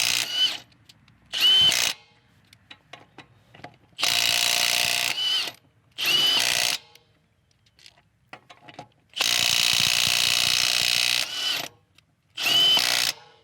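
A Milwaukee M18 FUEL impact driver with a deep socket breaks bolts loose in five loud, close bursts of rapid hammering, each lasting under a second to about two seconds, separated by quiet gaps with faint clicks and handling noise.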